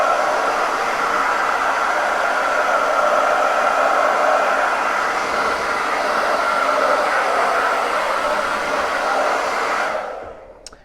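A hair dryer blows steadily on chalk paste spread over a winter wonderland village board, a loud, even whooshing rush held for about ten seconds before it switches off and fades at the end.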